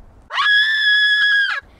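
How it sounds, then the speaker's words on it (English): A single loud, sustained, high-pitched scream rises, holds for over a second, then cuts off, heard alone with no talk. "it sounded like someone screaming"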